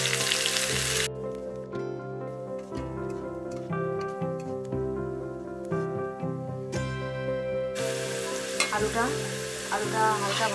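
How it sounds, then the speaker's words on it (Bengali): Potatoes fry in a pan for a kabuli chana curry, a close hissing sizzle that is clear at the start and end and mostly covered by loud music in between. "আলুটা হালকা ভাজা হয়ে গেছে"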